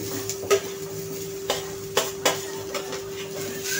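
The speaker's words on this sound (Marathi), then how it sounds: "आता आपण कांदा टाकायचा आहे ह्या कढईमध्ये।" Onion goes into a kadai already holding roasted coconut for dry roasting. A few sparse metallic clinks and scrapes of a spatula against the pan ring out over a steady electrical hum.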